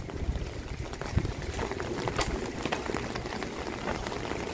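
Rain falling steadily outdoors, a dense close patter with scattered louder drops tapping a surface, no voices.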